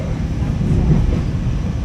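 Steady low rumble of a GO commuter train rolling westbound through Toronto toward Mimico, heard from inside the car as a continuous, even drone with no distinct clacks.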